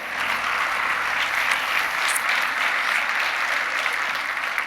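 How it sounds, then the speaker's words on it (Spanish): A church congregation at a worship service applauds in a sustained, even wash of clapping, fairly loud and unbroken from start to finish. "denle un fuerte aplauso a Jesús."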